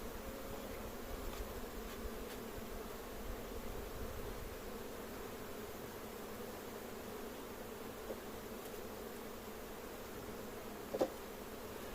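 A honeybee colony buzzing inside a hive during transfer from a nucleus box to a full hive, a steady low drone of many bees close by, with a faint knock near the end.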